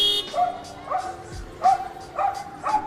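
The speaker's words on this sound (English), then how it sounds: "Any car that moves gets barked at until all the children are safely across." A stray dog barks repeatedly at moving cars on a big road while children cross, sharp barks coming in bursts about every half second to second, fairly close over steady traffic hum.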